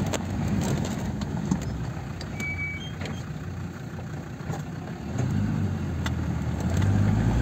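A Land Rover Defender 110 crawls off-road in low gear, its engine a steady, close, broadband rumble that swells slightly near the end, with wind and rattling over the drone and no talk.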